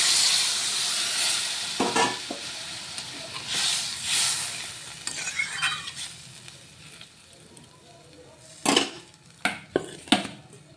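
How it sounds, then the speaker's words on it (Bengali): Water is poured into a pan of fried fish masala, a hissing sizzle with spoon clinks and scrapes against the pan, then sharper metallic knocks near the end, close and moderately quiet. "এটা কষানো হয়ে গেছে, এখন আমি জল দিয়ে দিচ্ছি।"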